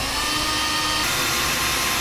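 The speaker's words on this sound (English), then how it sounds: "We'll now take a small drill bit and go through the appropriate holes and make a pilot hole" A power drill with a small bit whirs continuously at steady speed, boring pilot holes through a Ram pickup's truck bed and frame, a loud buzzing motor drone filling the whole stretch without pause.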